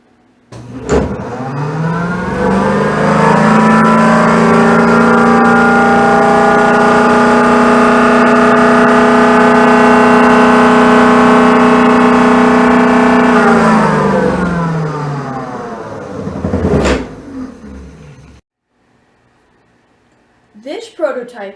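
A twin-rotor magnet motor prototype runs under one inductive and three resistive loads, a loud steady electric whine with layered tones that rises at start, holds for about twelve seconds, then winds down, followed by brief faint clicks.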